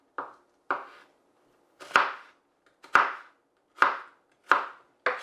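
A knife chopping an onion on a cutting board in seven sharp, separate chops spaced roughly every half to one second, close up and clear against silence.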